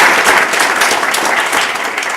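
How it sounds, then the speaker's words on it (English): A room full of people gives steady, dense applause for Trustee Robin Bruno at a village State of the Village address. The clapping is even and continuous, with no talk over it. "having a nice round of applause for my colleague, Trustee Robin Bruno"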